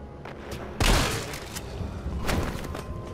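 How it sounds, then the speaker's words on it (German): A sudden loud gunshot blast in Resident Evil 3, followed by a second softer burst and ongoing background game noise. "Oh, ein Schuss."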